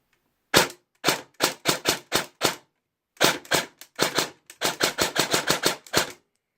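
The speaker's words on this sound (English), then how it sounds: "I think it's on automatic right now, so I'll show you just how fast it's shooting." Airsoft AK in a contractor CQB build firing, with quick loud bursts of sharp cracks in two groups separated by a short pause. The shots land close together and sound near, with no voices.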